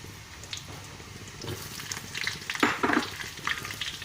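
Chili and curry leaves sizzling in hot oil for buttermilk fried chicken, a steady crackling fry with stirring and a louder burst of spitting partway through, no talking.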